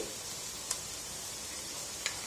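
Onions for a poori potato masala fry in a pan with a steady, faint sizzle, broken by two tiny clicks from stirring and no talk.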